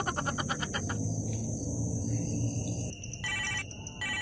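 A telephone rings with repeated electronic ringtone bursts over a steady background hiss and low murmur, with no speech.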